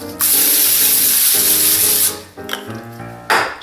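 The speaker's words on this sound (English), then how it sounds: "Then I'm gonna spray it down with some cooking spray." A loud hissing spray from an aerosol can of cooking spray, one long burst followed by a shorter one, with music playing underneath.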